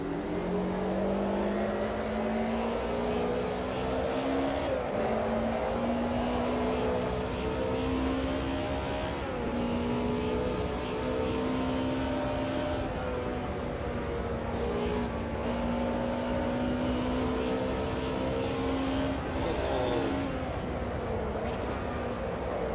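DTM race car engines in a racing video game at Silverstone drone loudly and continuously, with pitch rising through the gears and dropping at shifts, sustained engine noise filling the whole stretch.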